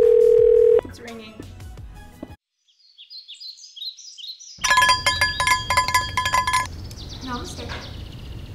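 A telephone call to a helper team rings out, with beeping tones, a short gap and a burst of electronic warbling ring patterns, while an animated voice speaks over parts of it.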